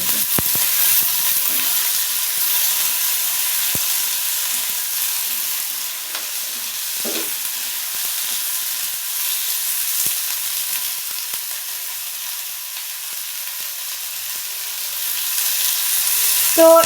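Dried chili, green chili, onion and garlic fry in a pan with a steady, close sizzling hiss, now and then stirred, and no voice over it.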